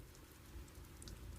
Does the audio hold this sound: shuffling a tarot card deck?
no